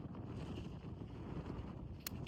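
Steady wind gusting across a mountain top in Slovakia, a low rumbling roar buffeting the microphone throughout, with no voices.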